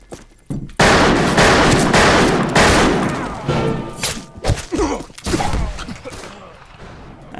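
Gunfire in the western shooter game Fistful of Frags, heard as loud, close, repeated shots and bursts with thuds and creaks over several seconds, with no talk.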